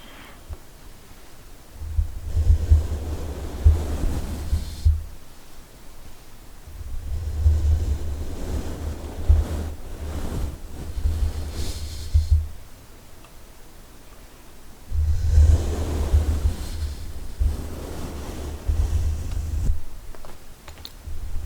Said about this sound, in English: You can tell that the brush kind of sounds like the waves